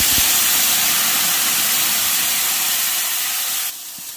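Ground spice paste dropped into hot oil seasoned with asafoetida for a pea curry, giving a loud, steady hiss of frying that holds for several seconds before easing slightly.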